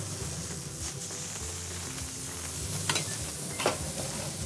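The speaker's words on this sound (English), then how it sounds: "we're going to put our onions on the grill" Onions sizzle on a grill beside a burger patty topped with bacon jam, a steady close hiss with a couple of faint scraping taps near the end, no voices.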